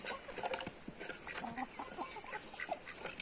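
Clucking and squawking chickens, with a rooster among them, close by in a busy farmyard; brief calls overlap irregularly over steady background noise.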